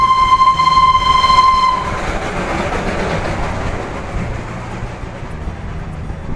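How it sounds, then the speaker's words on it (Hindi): The Darjeeling heritage toy train, a smoke-puffing steam engine, sounds a sharp horn and then rumbles past nearby at full speed with rattling wagons, and the noise fades as it moves away. "ओ देखिए धुआं उड़ाते हुए टॉय ट्रेन फुल स्पीड पे आ रहा है"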